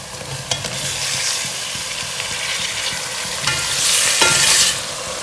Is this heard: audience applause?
no